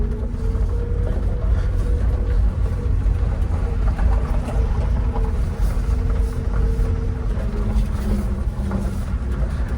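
Supercharged Subaru Sambar kei truck engine running while driving: a steady, loud mechanical drone with faint whining tones and light creaks that persist throughout, with no speech.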